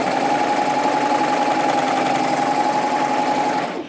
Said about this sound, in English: So I'm just going to keep it in there, pushing against it, and then continue serging.